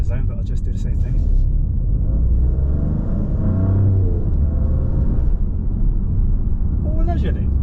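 A Maserati GranTurismo Trofeo cruising in comfort mode, a deep steady engine and road rumble filling the cabin throughout, swelling briefly as it pulls, with someone talking over it.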